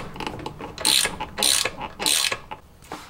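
A ratchet loosening a bolt on a Borg Warner 1356 transfer case: several quick bursts of clicking pawl strokes in an uneven rhythm, close and loud, no talk.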